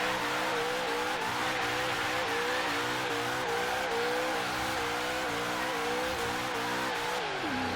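A supercharged HSV GTS held in a burnout in Forza Horizon 3, engine droning loud and steady with rising, stepping revs under a constant hiss of spinning tires, the pitch dropping sharply near the end.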